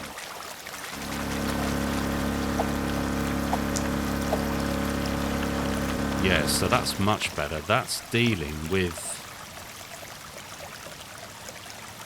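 In the drain-pipe game DrainSim, water gushes from a pipe in a steady rushing pour for several seconds, then someone talks as the flow cuts out.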